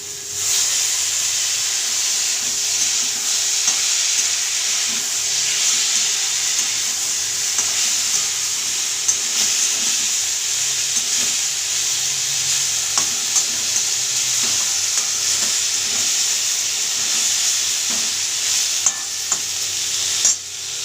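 Vegetables for sukto, including neem leaves, lentil dumplings, potato, pumpkin, green banana and drumstick, fry with turmeric powder in a pan. A steady close sizzle and hiss runs throughout, with repeated soft scraping of stirring.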